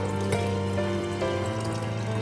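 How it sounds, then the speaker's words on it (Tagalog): Water pouring into a pot for a ginger, turmeric and lemon home remedy for dry cough, a steady close splashing stream with a faint hum underneath. "At lalagyan natin ng tubig."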